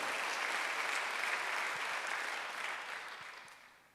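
Congregation applauding during a Sunday worship service at Jesus-centered church, a steady wash of many hands clapping that gradually tapers off over four seconds.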